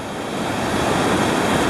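Ocean water surges up over a sandbar and spills into the trough beyond, a continuous broadband wash of surf that swells slightly louder, close and steady with no voices.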